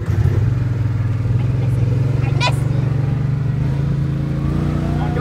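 A car driven on a dirt track while drifting, its engine droning loud and steady with revving, near and continuous; people talk over it.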